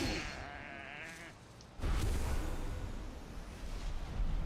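Sheep bleat in the survival video game Valheim, a wavering cry followed by a sudden louder thud and rumbling ambience, with no speech.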